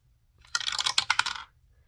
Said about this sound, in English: we're going to roll a 6-sided dice and see where we're scratching today